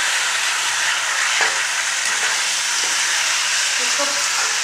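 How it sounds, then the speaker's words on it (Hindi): Beef frying hard in a karahi for a Peshawari Shinwari karahi, a steady loud sizzle throughout with faint stirring scrapes underneath. "इसको 5 से 7 मिनट तक में अच्छी तरह से भून लेंगे।"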